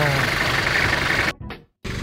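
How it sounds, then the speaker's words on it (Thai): A used pickup truck engine idles with a steady, close mechanical rumble while someone talks, then the sound abruptly drops away and comes back. "ติดเครื่องใช้งานได้ปกติเล่มโอนเอกสารครบนะครับคันนี้"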